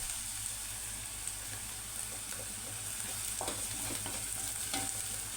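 Chopped onions with garlic frying in a pan for a lentil curry, a continuous close sizzle with light stirring scrapes and faint clicks running through, no voices.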